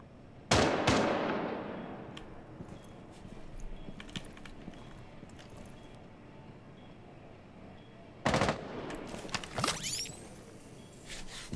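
Shotgun blasts in Rainbow Six Siege. A loud shot rings out with a decaying tail, then scattered clicks and handling noises, then another sharp blast with a ringing tone at the end.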